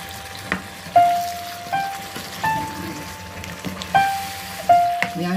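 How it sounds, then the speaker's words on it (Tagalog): Blended fresh tomato sauce with seafood simmers in a pan, bubbling steadily with soft pops and a repeated ringing tone from the pan, close and without talk. "Yan siyang kumulo, mag-simmer siya."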